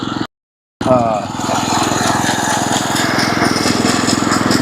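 A McLean Greenskeeper reel mower cuts bent grass at a very low height, with a steady, loud, close whirring reel and engine drone that starts after a brief gap and runs without a break.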